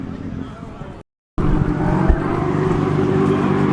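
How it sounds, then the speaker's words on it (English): A drift car engine at a drift event roars steadily at high revs with a broad, gritty wash of skidding tire noise, interrupted by a brief dropout before resuming loudly. "drifting has resumed"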